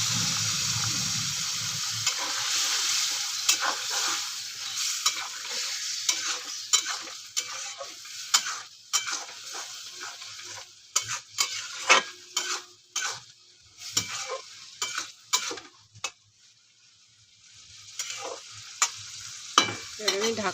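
Shrimp and fig (dumur) curry in a pan, stirred with a utensil that scrapes and clinks against the metal over a steady sizzle, with bursts of stirring and a brief quieter stretch near the end.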